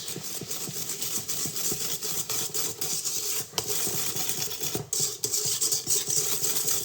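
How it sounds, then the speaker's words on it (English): Eggs and wet ingredients for canelé batter whisked in a bowl, a quick, steady scraping and rattling rhythm, close and fairly loud with no talk. "Just whisk it a bit together."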